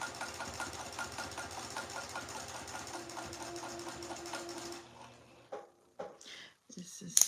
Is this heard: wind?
no